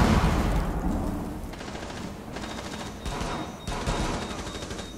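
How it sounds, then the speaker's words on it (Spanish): Rapid bursts of automatic gunfire from a Rainbow Six match, dense crackling volleys that stop and restart several times, loud and close with no talk over them. "Pero le pegué dos tiros."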